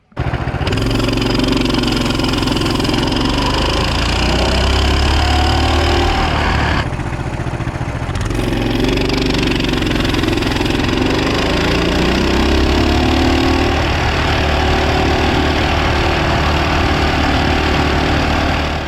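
A Coleman 200cc mini bike engine runs steadily as the bike rides down the road, a loud, continuous motor drone with a brief dip in pitch midway before settling back to a constant pull.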